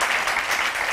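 Brief applause from a studio audience at a weekend television show, a dense burst of many hands clapping, fairly close and steady.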